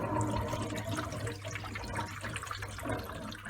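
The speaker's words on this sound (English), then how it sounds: "so air is coming out of the filter and water is going in." Air and water gurgle and bubble through a JBL Greenline e1501 aquarium canister filter as its water lines are opened, a steady close watery rush with a low hum underneath.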